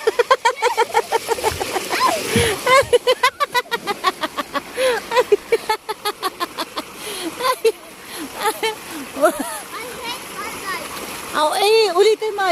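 Children splash and play in water, with repeated sloshing bursts and rushing flow as they dive, while kids shout and talk excitedly throughout.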